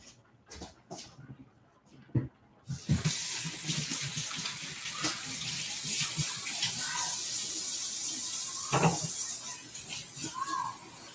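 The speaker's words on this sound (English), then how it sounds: "I'm gonna wash my hands." A sink tap runs as hands are washed while cooking baked mac and cheese, a loud steady gush of water starting after a few soft bumps and continuing to the end, with faint splashes over it.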